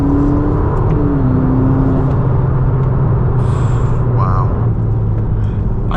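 Ferrari SF90 accelerating as its turbos come on, a loud close engine drone rising in pitch inside the cabin, with a faint whistling whine over the top.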